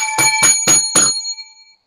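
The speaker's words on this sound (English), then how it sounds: "got a little bicycle bell." Small bicycle bell rung four times in an even rhythm, bright and close, with the last ring trailing off into silence.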